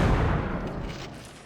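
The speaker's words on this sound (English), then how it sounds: "You can see them aiming the cannon, most likely going to be grape shot" Cannon firing grape shot during a Napoleonic-era line battle in a video game, a loud heavy boom that rolls off into a long fading rumble with no voices.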